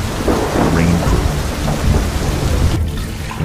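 Heavy rain pours steadily on a surface while thunder rumbles low throughout, a loud, continuous storm with no voices.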